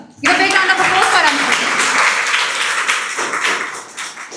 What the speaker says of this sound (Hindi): जोरदार तालियों के साथ स्वागत करें अंशुप्रिया का।